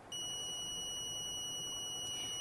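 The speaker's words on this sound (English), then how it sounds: "can just click on C button for a loud beep sound" A steady, piercing electronic beep from a smart keychain's alarm holds continuously at a high pitch, loud and close, with no pauses or talking.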